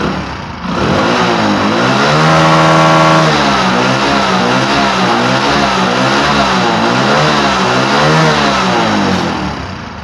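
A motorcycle engine revs cleanly without misfiring, a loud, close roar rising and falling in repeated smooth sweeps, holding steady revs between throttle blips with no stumbles.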